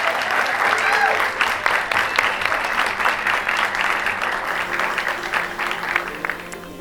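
Applause from an audience after a set by a band, steady and fairly loud clapping throughout with some crowd voices underneath, slowly easing off.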